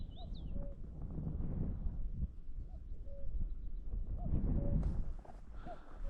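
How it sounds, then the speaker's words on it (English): A cuckoo calls across the countryside near a bike trail, its short tonal notes repeating at steady intervals, fairly distant under a constant loud rumble of wind and movement. "Cuckoo gone hell for leather."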